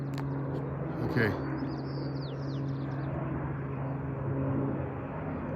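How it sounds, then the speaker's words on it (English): A firefighting airplane drones over a wildland fire across a road, its low engine hum steady and fairly distant, with birds chirping faintly on top. "So there's one plane, and then there's another."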